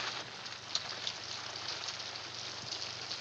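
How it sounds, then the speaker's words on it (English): Steady rain falling on a city street at night, a constant hiss of drops with a few faint louder taps, low in level and without speech. "You can't stay in the streets in this rain."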